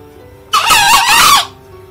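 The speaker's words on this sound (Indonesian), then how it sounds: "Ini ayam hutannya bacor-bacor ya kawan-kawan" A captive-bred green junglefowl gives one short, loud crowing call close to the microphone, a single burst of about one second against quiet surroundings.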